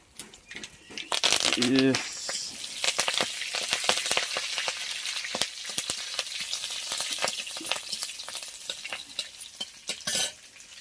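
Dal tempering in hot oil with green chillies and curry leaves added, a loud sizzle and frying crackle lasting throughout, with stirring scrapes in the pan and a brief voice near the start.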